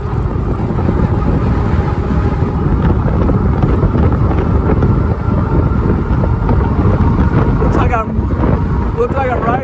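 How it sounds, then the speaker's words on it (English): Heavy wind roar buffeting the microphone while riding a Philodo AWD ebike into a headwind, a loud continuous rumbling blast close up throughout, with brief faint chirps near the end. "Looks like I'm riding into the wind going back this way."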